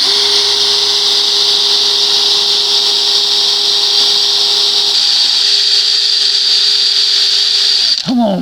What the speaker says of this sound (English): Let's see how this drill is going to work out.